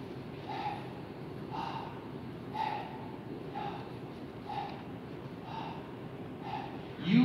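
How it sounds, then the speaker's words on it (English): A congregation breathes together at a Sunday service, producing soft, rhythmic breaths that rise and fall about once a second over a low room hum, faint and unaccompanied by speech. "Just hear yourself breathe now."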